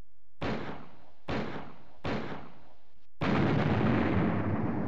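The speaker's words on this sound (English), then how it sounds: "Tap the A button to shoot the barrels that are within range of your pistol." Pistol shots in Commandos 2 on the original Xbox hit explosive barrels. Three sharp, evenly spaced bangs each fade quickly. A fourth, louder blast follows, a barrel explosion that rumbles on with a long, sustained roar.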